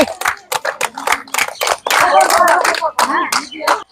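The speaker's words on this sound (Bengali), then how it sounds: "সবাই জোর হাততালি" Villagers watching a women's village football match give a round of quick, uneven hand claps that come close together in bursts, with voices mixed in.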